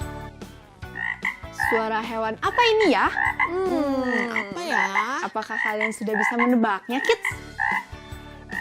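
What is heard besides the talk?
frog croaking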